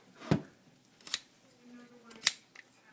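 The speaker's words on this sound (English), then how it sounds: "just cut right in the middle of that joint" A knife slices through the knee joint of a whole raw chicken leg, giving a few short, crisp cutting and crunching snaps spaced apart, close and fairly quiet.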